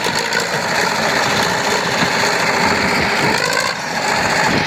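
A tractor engine roars steadily and loudly close by while pushing away a pile of old foundation debris, with a brief dip in its note toward the end.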